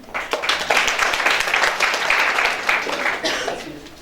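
Applause from a live show audience, a dense steady patter of many hands that swells and holds for several seconds before thinning, with some voices mixed into the crowd noise.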